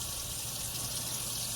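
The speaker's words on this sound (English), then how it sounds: "I'm rinsing these with cold water." Cold tap water runs steadily over fresh broccoli in a kitchen sink, a continuous close hiss and splash that holds even and alone throughout.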